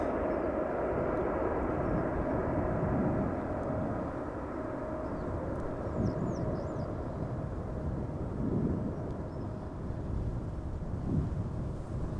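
An airplane climbs out after takeoff at Amsterdam Schiphol Airport, its engine roar a steady, broad rumble heard from a distance, continuous throughout without any voices.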